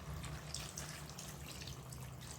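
Water pours steadily into a cooking pot in a continuous splashing stream, close and fairly even in level throughout.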